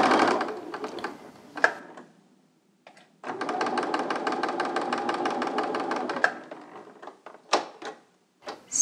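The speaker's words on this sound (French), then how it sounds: "C'est pas facile de coudre ces courbes quand on commence" A sewing machine quilting curved seams on a Double Wedding Ring quilt, several short stitching bursts then one long steady run of rapid needle chatter close by, with clicks and handling noises between runs.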